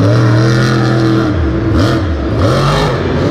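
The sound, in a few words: Monster Jam monster truck engine revving at a show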